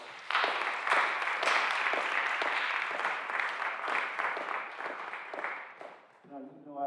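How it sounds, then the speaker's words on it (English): Audience applause at a high school Law Day event, a sustained wash of many hands clapping for about six seconds before fading, with a voice starting to speak as it dies away. "Why don't you give them a round of applause?"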